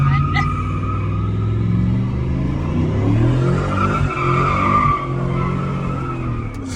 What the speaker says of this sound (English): I'm addicted to burnouts.